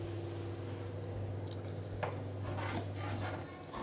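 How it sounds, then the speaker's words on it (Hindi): A spoon stirs kheer, rice and milk pudding, in a pot over low heat, giving soft scraping and rubbing sounds with a few light clinks against a steady low kitchen hum. "वक्फे वक्फे से हम इसमें चम्मच चलाते रहेंगे ताकि हमारी जो खीर है वो नीचे ना जले"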